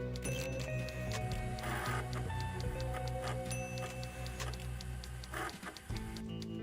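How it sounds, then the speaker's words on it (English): Printer-like mechanical sound from the video game Delores: A Thimbleweed Park Mini-Adventure, a steady run of rapid ticking clicks with a repeating rhythmic pulse over a continuous electronic hum. "That was like a printer, like brr, brr, brr, brr, brr. Like a printer or a fax machine or something"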